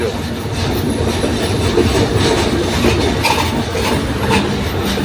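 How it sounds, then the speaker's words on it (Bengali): A train rolls loudly and steadily across the Jamuna rail bridge with a constant rumble and faint rhythmic clatter of wheels on the track, heard from on board. "ট্রেন"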